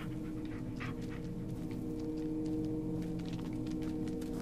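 Dog panting with faint whimpers in the horror video game Blair Witch, a steady breathy rhythm over a constant low drone of game ambience, with no talk.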